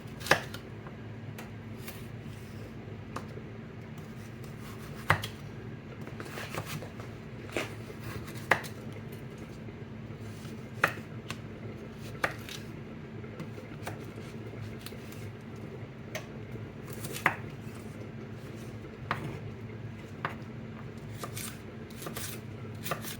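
Peeled carrots being cut into thin strips with a knife, crisp separate taps on a cutting board at an uneven, unhurried pace over a low steady hum.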